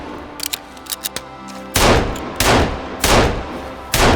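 Gunfire in the Sons Of The Forest survival game: a few light clicks and taps first, then four loud, close bursts of rapid shots separated by short pauses.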